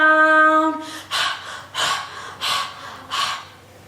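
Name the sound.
children panting after hopping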